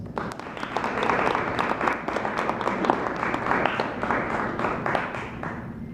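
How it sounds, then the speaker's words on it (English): Applause from an audience at a keynote speech for Neighborhood Ministries, a steady wash of many hands clapping at moderate level throughout, with a faint voice under it. "So give yourselves a round of applause."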